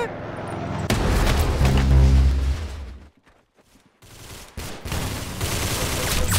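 Rapid gunfire and explosive booms in an Arsenal shooting video game, loud and dense, cutting out briefly midway before resuming, with an excited voice speaking over the action.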